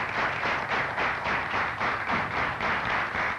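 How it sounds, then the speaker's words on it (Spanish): An audience at an official school-anniversary ceremony in Venezuela claps together in a steady, even rhythm of about three beats per second, continuous and moderately loud throughout, with no talk on top. "Un aplauso de Venezuela para ustedes"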